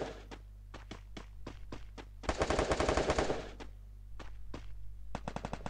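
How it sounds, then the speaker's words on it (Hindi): Gunfire in the video game Free Fire: scattered single shots, then a dense rapid burst of automatic fire for about a second, followed by more spaced shots and a quick final string, with a low steady hum underneath. "ये कौन है जो गोलियां चला रहा है?"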